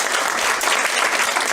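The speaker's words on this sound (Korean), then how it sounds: "여러분들이 박수 한 번만 쳐주시면 좋겠습니다" Audience at a lecture applauding, a dense burst of clapping from many hands that stays steady and loud for a moment.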